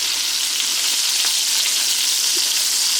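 Meatballs sear in a pan covered with aluminum foil, giving a steady, loud hiss of frying fat with small pops and crackles throughout, and no voices.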